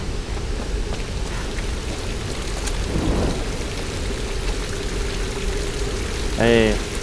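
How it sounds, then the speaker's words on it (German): Steady rain hisses throughout in Tomb Raider, with a low rumble of thunder swelling near the middle and a short voiced sound near the end. "wer immer hier wohnt, hier regnet es rein"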